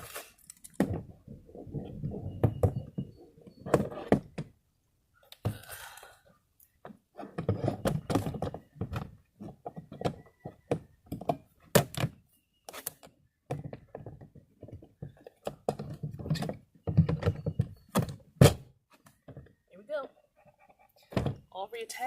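The top tank of a portable toilet is fitted back onto its base, giving repeated dull plastic clunks and taps at close range mixed in with a person talking throughout.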